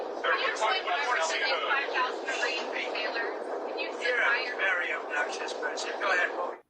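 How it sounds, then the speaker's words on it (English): Loud, continuous airplane engine noise roars in the background for several seconds, steady with slight swells, under a busy stream of voices that seem to be talking over it. "you get the plane noise in the background"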